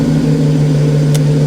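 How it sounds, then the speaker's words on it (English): A 1993 Mercedes SL500 with a non-stock exhaust idles close by, a loud, steady, low droning hum with a brief higher hiss partway through. "That exhaust does not sound stock."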